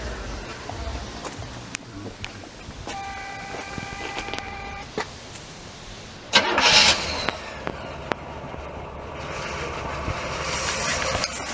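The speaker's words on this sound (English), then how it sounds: "Oh, go ahead and start her up there." A 1975 Oldsmobile Vista Cruiser station wagon is started outdoors: its engine cranks and catches with a loud burst about midway through, then runs on under quieter background noise.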